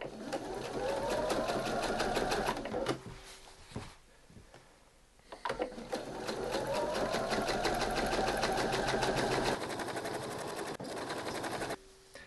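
A domestic sewing machine stitches bunting fabric in two long steady runs of rapid needle rattle, with a brief pause between them and the motor whine rising as each run starts.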